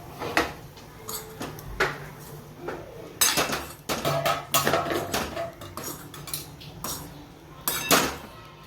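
A spoon mixes roasted masala into a spiced potato filling for aloo paratha, giving irregular close clinks and scrapes against the bowl or pan, with sharp bursts spread across the stretch.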